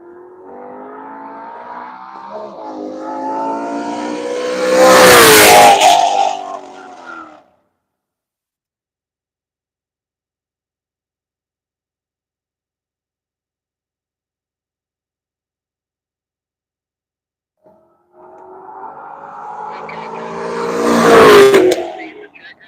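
A race car on the Nelson Ledges track during a One Lap of America session roars in and passes close by, then falls silent for several seconds before a second car approaches and sweeps past, each pass loud with a rising then fading engine note.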